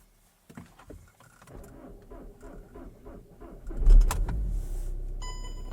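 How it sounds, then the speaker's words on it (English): A Skoda Superb Mk2 car is started: a quiet click and whir precede the engine cranking and catching near 4 seconds, followed by a steady close idle; no talking. "Start the car."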